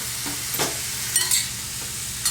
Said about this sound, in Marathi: व्यवस्थित मिक्स करून घ्या, मसाला सगळ्या शेंगाला व्यवस्थित लागला पाहिजे